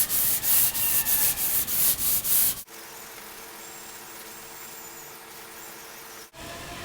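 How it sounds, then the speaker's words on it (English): Sandpaper rubbed by hand across 3M finishing glaze filler on an auto body repair, quick rhythmic back-and-forth strokes for a few seconds, then giving way to a steadier, quieter hiss. "I'm going to sand this way just a little bit."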